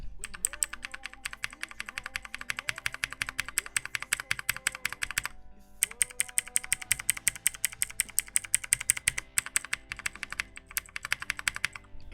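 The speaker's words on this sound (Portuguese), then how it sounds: "O clique às vezes aparece, às vezes deixa de ser Blue, passa para Red" Inexpensive mechanical keyboard with Blue and Red switches being typed on, fast rhythmic key clicks and clacks in steady bursts with one short pause, some strokes crisp and clicky and others duller.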